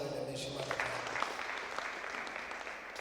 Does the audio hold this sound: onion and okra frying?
no